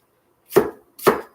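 Apple being chopped by hand with a knife on a cutting board: two crisp, separate chops about half a second apart, close and clear with silence between.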